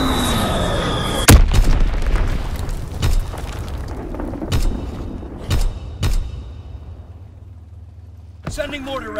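Mortar rounds burst in Call of Duty: WWII, a string of about half a dozen heavy booms spaced a second or so apart, a loud crack leading them, over steady battlefield rumble with game voices talking.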